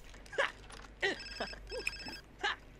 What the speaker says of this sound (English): I'm not worried about the phone call.